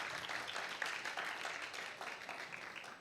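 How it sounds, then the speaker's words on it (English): Audience applause in a hall during a startup pitch event, steady rapid clapping from a crowd, soft and somewhat distant, holding evenly throughout. "Another round of applause."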